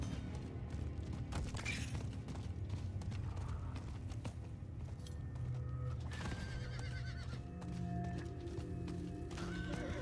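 A horse in the Diablo 4 video game whinnies and its hooves clip-clop at speed, mixed with creaking mechanical effects and low rumbling game sounds, steady and fairly loud throughout.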